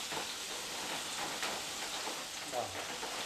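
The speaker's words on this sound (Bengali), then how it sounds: "পেঁপেটাকে হালকা করে ভেজে নিতে হবে।" Papaya pieces shallow-frying in a pan for a Bengali prawn papaya roast, a steady crackling sizzle with faint stirring clinks, close and continuous.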